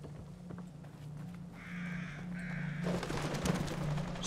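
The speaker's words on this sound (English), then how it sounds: "Didn't see those crows." Crows caw in The Evil Within, a horror video game, the harsh calls rising over a steady low ambient hum and drone, with a louder burst of noise near the end.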